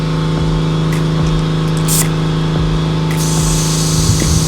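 Air hisses steadily through a Schrader valve into a tire fitted with wheel balancing beads, topping it up to 30 psi, with a low hum underneath and brighter bursts of rushing air midway and toward the end.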